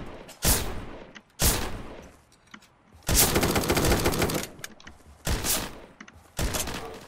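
Bursts of DP-28 machine gun fire in the Surviv.io game, several separate rapid volleys of varying length, loud and close with brief gaps between them and no talking.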